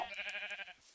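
A sheep in a farming video game bleats once in a wavering, pulsing call that lasts most of a second, loud and close, then fades out.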